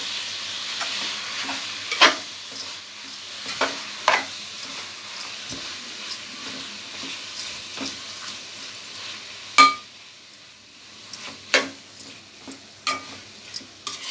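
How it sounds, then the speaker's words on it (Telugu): Food frying in a pan over high heat gives a continuous soft sizzle, broken by irregular sharp scrapes and clinks of a spatula stirring it back and forth, close up with no talking. "హైలో ఉంచి దీన్ని బాగా అటు ఇటు ఫ్రై చేస్తాం."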